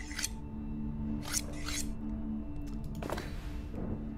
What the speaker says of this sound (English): we've got some scissors